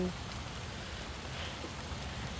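Rain falls steadily and softly in a garden of teak trees, a faint, even patter with no breaks in the short stretch.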